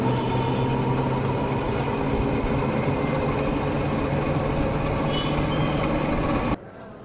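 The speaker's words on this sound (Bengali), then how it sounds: "মাত্রই ট্রেন প্রবেশ করছে" The Betna Express rolls into Benapole with a loud, steady, close rumble of wheels on rails and thin metallic squeals. The noise holds for several seconds and then cuts off abruptly.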